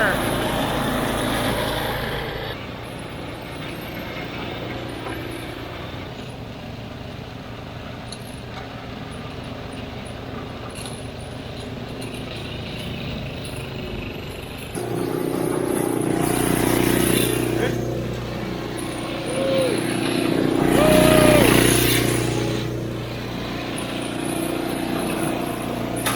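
A small 5 horsepower engine on a machine working through a few inches of snow, a steady droning hum that rises louder and bogs down near the middle, with a voice talking over it at times.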